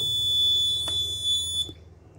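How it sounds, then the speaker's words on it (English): An Arduino QR code door lock sounds its alarm buzzer, a loud steady high-pitched electronic tone held for over a second before cutting off abruptly. "Alarm on. Wrong QR code."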